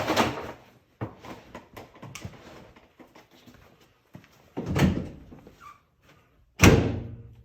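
Doors of a rear screen enclosure with a zipper screen and Aqualon covers closing: two distinct close thumps near the end, preceded by scattered handling knocks and rattles, nearby and fairly loud, no talk.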